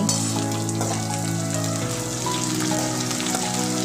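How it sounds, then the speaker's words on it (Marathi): Curry leaves, green chillies and chopped onion fry in hot oil in a pan, a loud, dense, continuous sizzle heard close with no talking. "कढीपत्ता हिरवी मिरची सर्व आपण टाकून घेऊया आणि मस्तपैकी भाजून घेऊया हिरवी मिरची"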